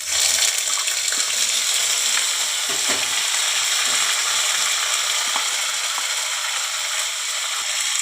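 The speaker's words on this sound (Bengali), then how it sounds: "এবারে আদা বাটাটা দিয়ে দিলাম।" Ginger paste sizzling in hot oil with whole cumin seeds and fried chillies in a home kitchen pan, a steady close hiss and crackle running continuously without talk.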